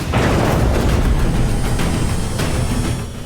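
Loud, continuous rumbling blast noise from aerial strikes on Iranian port cities, a sustained roar of explosions without a break and no voices.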